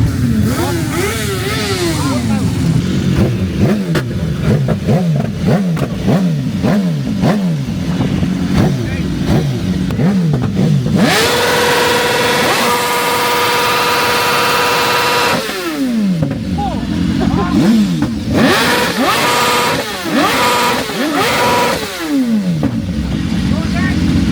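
Crowds of motorcycles at a large bike meet with 1000+ bikes rumble and rev repeatedly nearby, with engines rising and falling in overlapping bursts and a steady sustained drone in the middle, people talking over the din.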